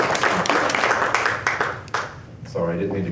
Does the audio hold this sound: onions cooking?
no